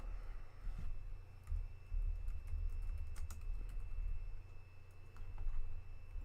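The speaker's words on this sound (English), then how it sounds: "Let's actually type it out right now." Computer keyboard typing during a livestream, soft and fairly close, a steady patter of keystrokes with occasional louder taps over a low background hum, no talk.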